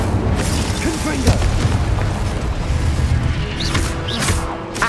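Confringo explosion spell in the video game Hogwarts Legacy, a dense booming blast amid continuous loud combat noise and crackling, with a voice talking over it.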